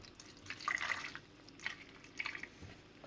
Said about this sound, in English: Now we're going to add some water.